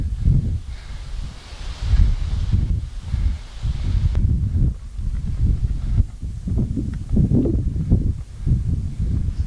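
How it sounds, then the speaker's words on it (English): Steady low rumbling wind buffeting the microphone in gusts on a chilly hilltop, continuous and close, with no voices. "It's a little bit windy, chilly up here."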